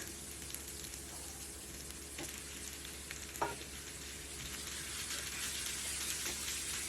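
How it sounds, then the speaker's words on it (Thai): Pork stir-frying in a pan with chili and garlic for pad kaphrao, a continuous soft sizzle with occasional spatula taps, fairly quiet and alone. "เมื่อพริกกระเทียมหอมได้ที่แล้วเราก็เอาหมูลงไปนะคะ"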